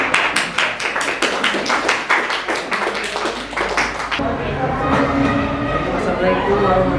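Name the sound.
audience applause for a presenting group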